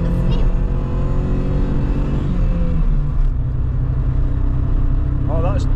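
A Vauxhall Corsa B engine misfiring and running on only three cylinders, with a rough, uneven idle drone that is loud throughout; voices are heard briefly over it.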